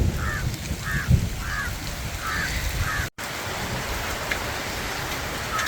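Steady rain falls outdoors with a dense, even patter, while crows caw several times in the background.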